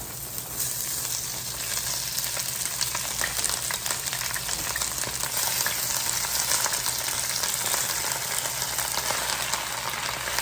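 Chopped onions and spinach frying in a big pan, a loud, steady wash of sizzling and crackling that holds unbroken throughout, with no speech.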